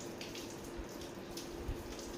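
A brass vessel is washed under running water, a steady faint splashing and trickling flow continuing throughout with soft low thumps of the pot being handled, no voices.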